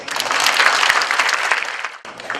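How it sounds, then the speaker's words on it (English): Warm applause from a seminar audience greeting guests at a Philippine stock-market investment talk, dense continuous clapping that fills the room, with a brief dip near the end before resuming. "round of applause."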